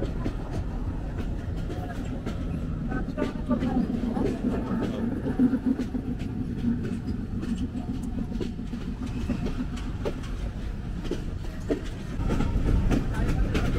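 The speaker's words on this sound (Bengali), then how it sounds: "রাজশাহী কমিউটার প্রবেশ করছে রাজশাহী রেলওয়ে স্টেশনের 5 নম্বর প্ল্যাটফর্মে।" Rajshahi Commuter train pulling into platform 5 at Rajshahi railway station, a steady rumble of wheels on rails with faint clatter throughout, growing a little louder near the end, with some voices in the background.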